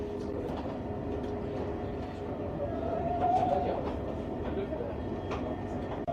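Steady rumble of a passenger train running on rails between Paris and Brussels, with faint rhythmic clatter and a low hum throughout; soft voices murmur in the background.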